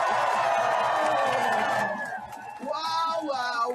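A crowd at a political rally cheering and whooping, a loud, sustained roar that dips briefly and rises again, with voices and shouts mixed through it.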